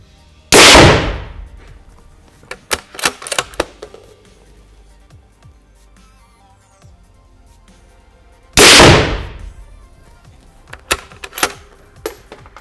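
Two sharp, muffled shots from a suppressed Tikka T3 Varmint rifle several seconds apart, each followed by metallic clicks and clatter of handling; no talking.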